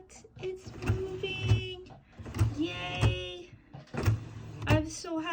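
A Brother sewing machine, freshly oiled after a fault in its internal gears, runs again with a steady, rhythmic low thumping and whirring, close by, under excited talk.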